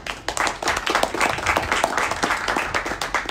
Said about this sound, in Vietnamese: Các anh chị hãy dành một tràng vỗ tay thật lớn nữa cho sự chia sẻ vừa rồi của hai anh ạ